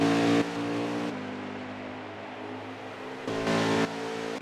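A Ford stock car on a qualifying lap at Iowa in a racing video game, its engine howling loud and close, dropping to a lower drone between throttle bursts at the start and end.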